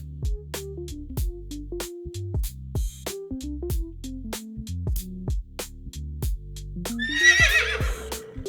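A horse gives a single loud, shrill neigh near the end, over a steady plucked musical backing that runs throughout.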